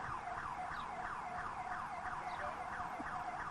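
A warning siren sounds at a horse racetrack at dawn, a steady wailing tone rising and falling in rapid repeated sweeps, distant and constant throughout.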